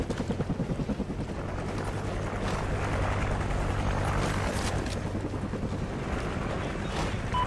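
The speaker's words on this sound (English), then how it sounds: "Friendly chopper inbound." Helicopter in the Call of Duty Ghosts video game on PS4, a loud continuous rotor thump with rushing wind noise, rising slightly and holding steady.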